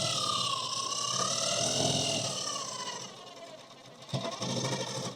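An automatic sewing machine stitching the side seam of a suit, a steady close whirring hum that dips briefly near the end before resuming.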